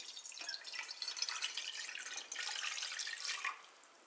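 Dashi stock is poured into a cooking vessel for a Japanese egg and beef bowl, a faint, steady liquid trickle and splash lasting a few seconds, heard alone.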